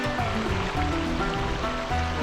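Steady rushing water flows continuously from a camp water filter on a pack trip, close and fairly loud, with a smooth broadband splash and no pauses.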